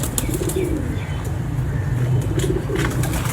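Breeder pigeons in a loft in Gujrat coo steadily in low, throaty rolls, several birds overlapping close by over a constant background murmur, with a few faint higher chirps and a hint of wing movement.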